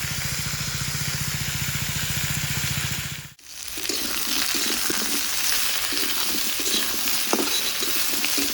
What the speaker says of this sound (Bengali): আমার আলুগুলো ভালো করে ভাজা হয়ে গেছে।